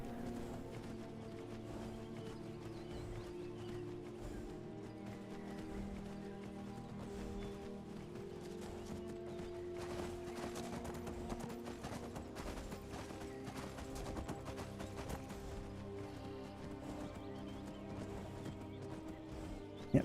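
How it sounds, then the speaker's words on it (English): Horse hooves clip-clop steadily as a rider travels uphill in the Skyrim video game, a continuous rhythmic trotting at moderate loudness layered with game music and ambience. "It's a little awkward going up a hill on a horse."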